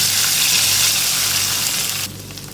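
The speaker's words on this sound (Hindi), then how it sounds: "तड़का तैयार हो गया, अब ये दाल पे डालूंगी मैं।" Loud hissing sizzle of hot tempering oil poured onto cooked lentils, crackling steadily before dropping abruptly to a quieter simmer.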